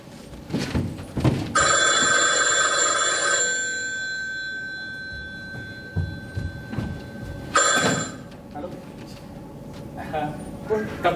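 A telephone bell rings in a stage play, one loud, buzzy burst of ringing, a pause, then a second shorter burst, with people speaking before and after the rings.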